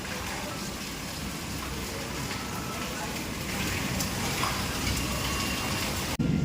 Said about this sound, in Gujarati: પેલો મસ્ત નો વરસાદ.